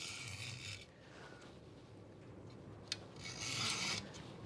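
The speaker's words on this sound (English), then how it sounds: "So just pull a junior hacksaw" A junior hacksaw is drawn through clamped, flexible ABS car interior plastic, giving two close, raspy bursts of cutting, one short at the start and another after a pause of quieter scraping.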